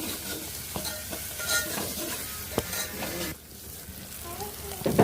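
Onion paste sizzles in a pan while a spoon stirs through it, a busy crackling fry with scraping strokes and a few sharp clinks, dropping quieter partway through.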